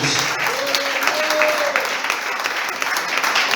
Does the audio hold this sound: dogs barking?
no